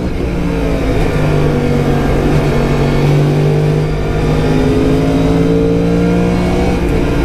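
Formula 4 race car powered by a Yamaha R1 engine revving at speed on a circuit, a loud sustained high-pitched engine drone with gliding harmonics as revs climb and settle, close and continuous with no talk.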